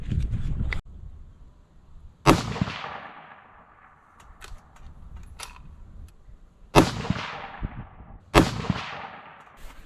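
Four loud rifle shots from a 25 Creedmoor fired at 425 yards, each a sharp crack with a long fading tail, spaced irregularly across a quiet outdoor range with faint background noise between.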